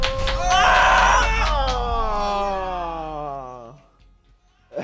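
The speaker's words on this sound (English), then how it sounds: "We're gonna scream the second I start opening it to hype up the pack before it goes" A group of people screams loudly together, voices rising and falling in a sustained excited shriek lasting several seconds, then trailing off into near-silence before a brief sharp noise at the end; tied to opening an Alpha Pack in Rainbow Six Siege on Xbox.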